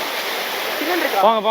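Steady rushing water of Keralamkundu waterfall, where people are bathing, fills the background while a voice speaks briefly near the end.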